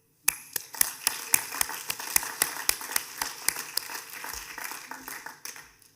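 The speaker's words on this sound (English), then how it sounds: "Let's pause for a moment and make some hand claps for ourselves" Graduates at an engineering and architecture school graduation ceremony clap in a hall, a clear run of sharp claps that starts abruptly and thickens into steady applause, fairly near.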